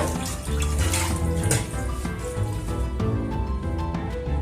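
Water runs steadily from a tap for rinsing in a home kitchen, a continuous close splashing wash that holds throughout with no talk over it.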